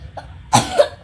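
Two sharp coughs, close and loud, break out in quick succession during a home meal of bún đậu mắm tôm.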